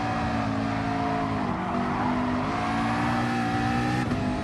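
A Porsche race car in Gran Turismo Sport drones at high revs, its engine tone sliding up and down through corners with a faint tire squeal, loud and continuous with no talk.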